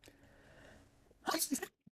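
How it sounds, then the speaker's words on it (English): A single sharp sneeze bursts out after a moment of quiet room noise, followed by a tiny sniff. "excuse me, sorry for the sneeze"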